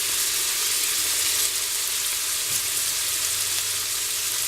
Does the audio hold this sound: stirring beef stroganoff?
yes